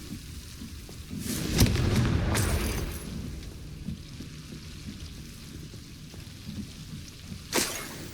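A Confringo blasting spell goes off in Hogwarts Legacy as a loud, rumbling explosion that swells and then fades over a couple of seconds, with a second sharp burst near the end.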